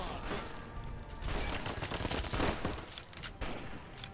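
Rapid bursts of gunfire from the video game Fallout New Vegas, likely a fight with Praetorian guards, run as a dense, steady volley across the whole stretch with a few louder cracks near the middle.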